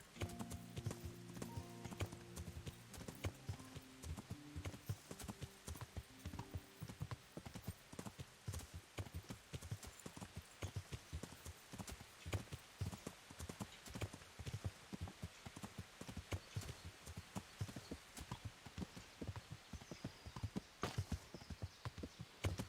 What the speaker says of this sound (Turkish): Yine uzun bir at koşusu yapıyoruz.